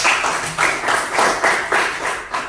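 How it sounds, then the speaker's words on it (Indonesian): A classroom of students claps together in a series of loud, rhythmic rounds, about five or six even bursts in quick succession, with no talking over it. "Kasih tepuk tangan."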